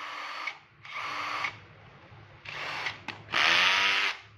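A cordless battery-powered drill runs in several close, loud bursts of whirring, with short pauses between them and a longer, louder run at the end, switched from the drill setting toward hammer mode.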